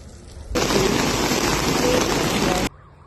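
Heavy rain from Storm Boris pours down in Italy's Apennine Mountains, a loud, dense hiss that starts abruptly and roars for about two seconds before cutting off.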